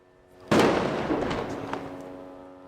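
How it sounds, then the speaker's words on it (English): Gunfire from a gun battle in a nearby street in Rafah: a sudden loud burst of shots and blasts erupts, then rolls on as sustained reverberating crackle that slowly fades. "As we were filming, there was a gun battle in the next street."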